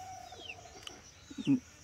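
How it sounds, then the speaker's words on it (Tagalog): A brooding Rhode Island Red hen gives one short, soft cluck near the end, faint and close, over a quiet background with a thin distant bird call. "manok na naglilimlim sa ating Rhode Island Red"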